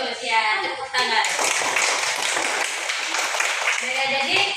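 Children in a classroom break into clapping right after a teacher's prompt, a dense, close patter of small hands lasting several seconds, with young voices mixed in.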